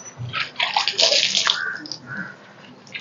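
Shampoo water splashed and poured over a pet at bath time, with uneven sloshing and trickling pours up close, easing off toward the end.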